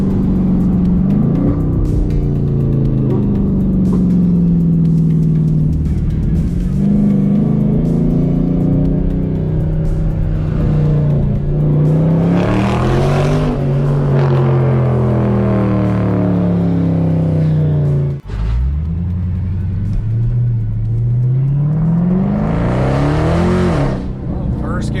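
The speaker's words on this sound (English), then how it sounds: "I wanna see if I can finally drive the Red Eye and launch it in first gear" A Dodge Challenger SRT Hellcat Redeye launches hard in first gear on heated tires, its supercharged V8 roaring loud and close through rising and falling revs with gear changes, a voice faintly under the engine.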